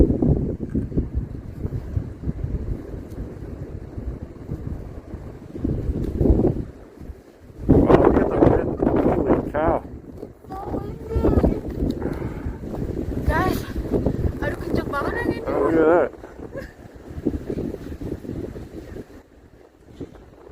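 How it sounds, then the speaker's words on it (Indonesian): Strong gusts during an overnight snow storm in Montreal roar and buffet the microphone, swelling and easing for about twenty seconds, with people talking at times. "anginnya kencang sekali"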